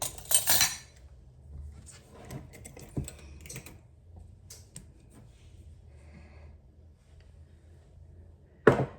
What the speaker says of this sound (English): we're going to whisk this up a little, get it kind of incorporated